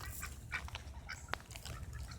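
Ducks at a pond call in a few short, scattered quacks over steady outdoor background noise, close by and moderately loud, with no talking.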